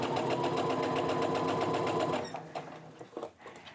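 Sewing machine stitching quilt top fabric blocks, a loud steady run of rapid needle strokes for about two seconds, then stopping and leaving faint handling sounds.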